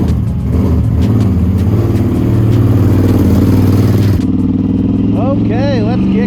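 A Can-Am Outlander 850 XMR ATV engine runs loud and close, rumbling and rising as the machine sets off, then easing as a voice speaks over it near the end.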